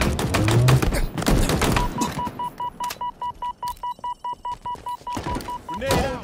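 Machine gun fire in Halo Infinite: a dense clatter of shots at first, then an evenly spaced run of rapid pulsing bursts, loud and near, with some voices over the action.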